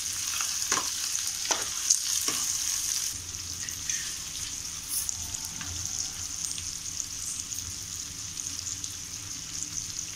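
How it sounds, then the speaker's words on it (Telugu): Onions fry in a pan for an egg, potato and tomato curry, with a steady sizzle and a few sharp stirring scrapes near the start, close and fairly quiet. "ఇలా ఉల్లిపాయలు వేసి వేపండి"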